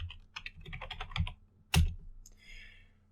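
Typing on a computer keyboard: a quick run of close, crisp key clicks, a brief pause, then one sharp heavier keystroke and a softer final tap, with no talking.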